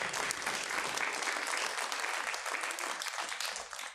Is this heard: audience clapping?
yes